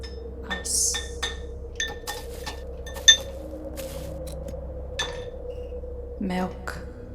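Ice cubes clink into a Halloween-themed glass for an iced coffee drink, giving scattered bright taps and one sharp knock over several seconds, set against a constant low hum.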